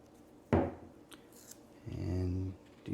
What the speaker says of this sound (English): I'm going to go ahead and trim a little of that off.